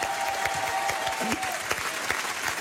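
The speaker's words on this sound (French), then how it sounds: "On peut applaudir la femme d'Eric Antoine parce que ça n'a pas été facile tous les jours" A French TV studio audience on a magic entertainment show breaks into sustained applause, an even wash of many hands clapping, moderately loud, with a brief voice heard under it.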